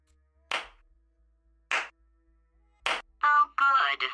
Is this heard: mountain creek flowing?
no